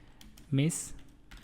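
A short burst of keystrokes on a computer keyboard, close and brief, with a faint tonal sound mixed into the tapping.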